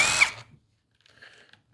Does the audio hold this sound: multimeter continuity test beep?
no